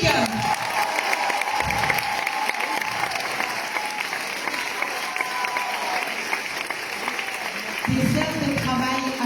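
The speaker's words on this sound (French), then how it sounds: "Une ovation pour Véronique." An audience at a country festival show breaks into sustained applause, dense clapping filling the whole stretch, with a voice talking over it near the start and again at the end.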